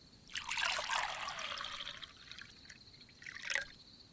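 Wine is poured into a glass, a soft steady trickle that fades out and is followed by a brief splash near the end, quiet and close with no talk.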